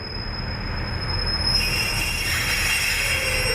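A steam train on railway tracks rumbles loudly and close, with a high, sustained metallic wheel squeal over the heavy rolling noise and no talking.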